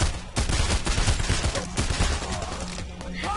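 Rapid AK rifle gunfire in the heist shooter PAYDAY, dense overlapping shots in a sustained loud burst lasting the whole moment, with no talk over it.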